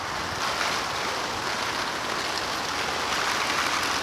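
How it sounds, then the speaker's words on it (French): A hose watering a square garden bed, a continuous hissing spray of water pattering onto soil and leaves, steady and close with no breaks. "Là, je suis en train d'arroser mon carré"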